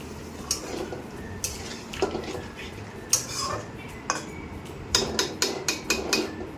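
Fried spices for a vegetarian cauliflower dish are stirred in a metal pan, a series of sharp spoon clanks and scrapes at uneven intervals over a soft sizzle, quickening toward the end, close and loud.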